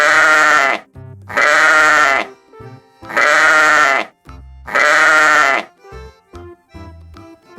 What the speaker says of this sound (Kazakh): Бұл қой, қой мә, мә